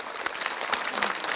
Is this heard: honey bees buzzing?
no